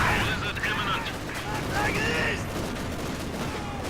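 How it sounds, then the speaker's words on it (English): Machine gun fire from a Panther tank in the video game Company of Heroes 2, as a dense rattling fusillade of bursts mixed with other battle noise, loud and continuous, with a voice talking over it. "But right from the Panther's machine guns."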